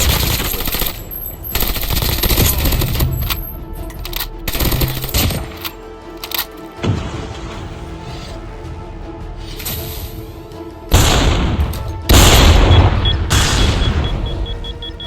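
Gunfire in the Call of Duty Mobile battle royale, with loud bursts of automatic fire and single heavy shots booming close, then dropping away to quieter stretches before more sharp cracks toward the end.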